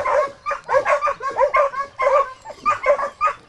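Setter puppy barking and whimpering close by, a run of short high yips and whines coming in quick repeated bursts with brief gaps, with no voices.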